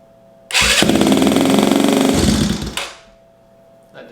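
A 2023 Benelli TNT 135 motorcycle, cold and fitted with a new cam and ECU, starts abruptly and revs at a loud, high, rapid idle for about two seconds before cutting off, recorded up close.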